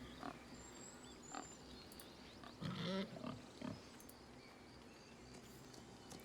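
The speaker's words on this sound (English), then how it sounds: "I love the pig noises just continuing." Pigs in Baldur's Gate 3 grunt and snort in a short cluster of several calls over a steady ambient game background, with no talking.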